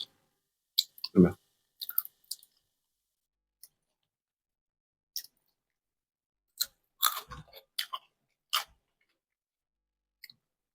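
Someone chews crunchy cartilage at the edge of bone from grilled meat, producing scattered short crisp crunches and clicks separated by silent pauses, close and fairly quiet.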